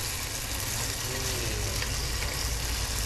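Marinated tempe frying in hot oil gives a loud, continuous close-up sizzle with a dense crackle that holds steady throughout.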